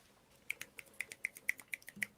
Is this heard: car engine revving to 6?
no